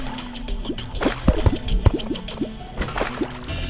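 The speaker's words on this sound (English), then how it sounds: "Also, you just let a lot of water into my nice tunnel." Water floods into a dug tunnel in Terraria, heard as a quick run of wet, splashy drips and squishy liquid blips at close range, alone with no voices.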